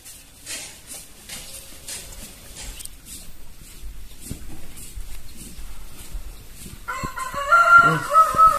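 A rooster crows near the end, loud and close, after several seconds of quiet clucking and faint bird sounds with no talking.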